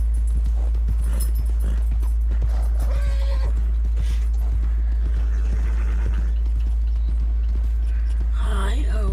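Steady hoofbeats clop along under a low hum, with a horse whinnying near the end in a video game; a voice talks faintly at times.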